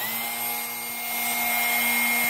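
A Drill Doctor 750x drill bit sharpener running: a steady electric motor whine with a constant tonal hum, close and even for the short stretch, with no talking.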